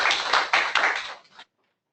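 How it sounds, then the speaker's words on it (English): Audience applause at an academic seminar, a burst of hand clapping from a room of listeners that holds steady for over a second, then tapers off and stops abruptly. "Let's give him a round of applause"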